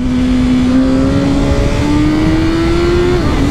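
A BMW S1000R motorcycle engine held high in the revs, a loud, sustained buzzing drone with a pitch that climbs slowly before dipping briefly near the end, close and alone without talk.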